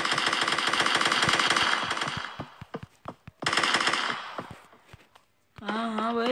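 Gunfire in the video game Kuboom, two long bursts of rapid automatic shots, loud and close, each trailing off into scattered single shots, with a voice talking briefly at the end.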